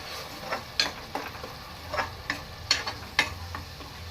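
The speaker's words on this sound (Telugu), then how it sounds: "పేస్ట్ వేసుకున్నాం కదండి, ఇప్పుడు బాగా ఫ్రై చేసుకుందాం." Onion paste frying in hot oil for an Andhra-style crab curry, a soft steady sizzle punctuated by scattered taps and scrapes of stirring, close and fairly quiet, with no talk.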